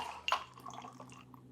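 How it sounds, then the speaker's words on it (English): A Mai Tai cocktail poured in small splashes from one glass to another, a short, soft, liquid trickle with faint drips and a light clink. "just start off nice and simple, small pours from glass to glass"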